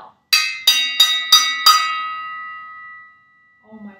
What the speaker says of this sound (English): I found the lid to a pot. Whoa. That almost sounds just like a fire bell.